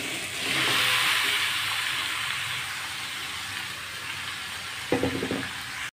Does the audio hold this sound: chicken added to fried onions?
yes